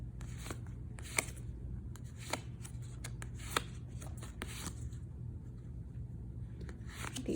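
A deck of game cards is handled and shuffled in a home setting, giving soft papery riffles and scattered light snaps over a steady low hum, with no talking.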